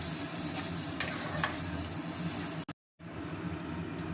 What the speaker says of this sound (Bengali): এখন মশলাটা কষানো চলছে